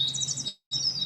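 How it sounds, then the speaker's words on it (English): Birds chirp in quick, bright repeated tweets, clear and fairly close, with a brief silent gap in the middle and no talking. "So here is birds chirping."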